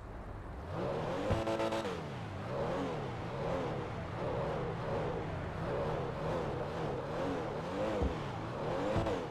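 A Porsche 911-style sports car (Pfister Comet S2 Cabrio) in GTA 5 Online repeatedly revs up and down through gear shifts, a steady droning whine with rhythmic rises, heard continuously without talk.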